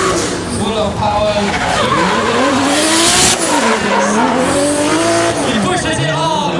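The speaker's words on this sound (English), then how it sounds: "Aggressive drifting." Drift cars at the King of Drift Asia 2015 competition slide aggressively, with loud, sustained tire squeal and revving engines filling the whole stretch while a commentator talks over them.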